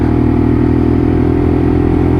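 Lexmoto LXR SE motorcycle's small engine running steadily while being ridden, a loud, continuous mid-pitched drone with a buzzing exhaust note and no talking.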